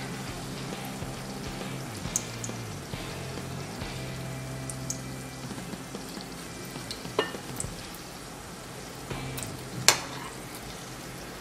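A papad noodle roll with cheese frying in hot oil, giving a continuous low bubbling sizzle with occasional sharper crackles and pops, close and fairly quiet throughout.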